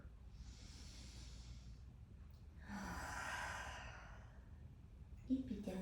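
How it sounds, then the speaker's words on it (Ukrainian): A slow, deep breath in and out taken during a guided relaxation exercise for releasing tension, soft and close, a long airy inhale followed by a hissing exhale, with no talking. "Глибокий вдих, видих."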